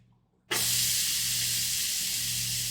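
Onions dropped into hot oil burst into a sudden loud sizzle after half a second of quiet, then hold a steady, close, hissing fry.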